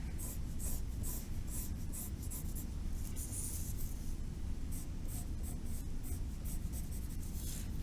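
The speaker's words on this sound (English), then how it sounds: "I'm just going to go in with my pencil and touch that up." A pencil shades a charcoal drawing on paper, a close, quiet, continuous scratchy rubbing with brisk back-and-forth strokes.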